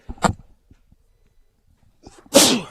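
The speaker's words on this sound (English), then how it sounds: "Excuse me, I had to sneeze." A brief murmur, a pause, then one loud, sharp sneeze close by.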